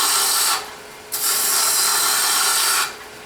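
A lathe tool cuts a taper in a spinning wooden Christmas tree ornament, making a loud, close, continuous rasping scrape that breaks off briefly, then resumes before fading to the motor's hum.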